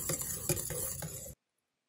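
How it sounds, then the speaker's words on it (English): Dry ingredients being mixed into wet ingredients for funnel cake batter, heard as quick rhythmic scraping and stirring strokes close by for over a second, then silence. "Now we're going to add the dry ingredients into the wet ingredients and keep mixing."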